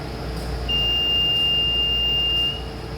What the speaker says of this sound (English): it's common for the alarm to go off here,